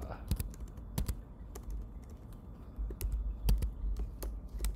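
Computer keyboard keys tapped in uneven bursts while text is entered into a code editor, close and fairly soft, with a low hum and faint room noise underneath.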